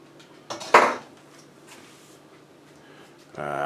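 Kitchen utensils clatter and rattle in a short, loud burst of metallic rummaging for a spatula, then quieter shuffling, and a steady tonal hum rises at the end.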